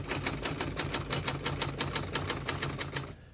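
Keys clack rapidly and evenly on a 1974 Adler J2 vintage portable typewriter, about twenty crisp close strikes in a steady rhythm before stopping, with no talking.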